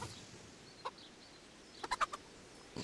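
Chickens clucking around a coop in Kingdom Come: Deliverance: one soft cluck, then a quick burst of several clucks, faint over low ambient background, with no talking.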